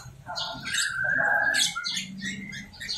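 A forest-caught green leafbird (cucak ijo) kept as a cage bird chirps and warbles in rapid, busy bursts, loud and close, filling the clip without pause.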